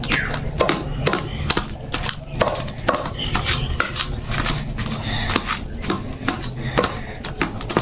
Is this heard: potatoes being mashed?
yes